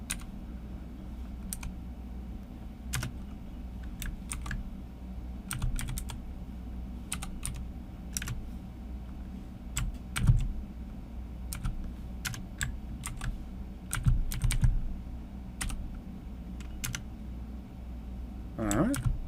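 Rapid keystrokes on a computer keyboard during a coding session, a steady stream of light clicks with a few louder clacks, close and fairly quiet over a low room hum.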